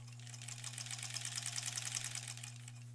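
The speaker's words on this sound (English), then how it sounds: "Just make sure you're sewing both edges." A sewing machine stitches the lining of a zipper pouch with a fast, steady mechanical whir and rhythmic needle chatter. The sound is close and even, with a constant low motor hum and no talking.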